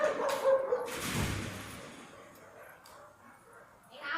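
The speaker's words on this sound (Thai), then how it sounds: "ต้องขออภัยจริงครับที่มีเสียงหมาครับ" A dog barks close by in a short loud burst at the start, then fades into a low noisy background while someone speaks.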